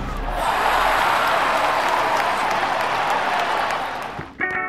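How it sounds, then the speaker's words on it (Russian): A huge stadium crowd in Manchester roars in a broad, continuous wash of cheering and applause that holds steady for several seconds before dropping away at the end. "И я прям слышу, как кричат трибуны"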